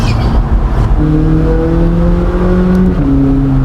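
A McLaren race car engine on a canyon road drops through the gears in manual mode, its steady loud drone stepping in pitch near the one-second and three-second marks, close and continuous with no voices.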